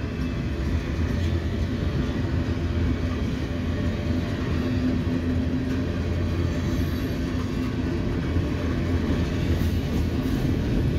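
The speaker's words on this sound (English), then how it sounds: "Or it may just be a long Connersville train." A long CSX freight train, a southbound Connersville local on track two, rumbles steadily past close by, a continuous loud roar of wheels and cars with no break for the whole stretch.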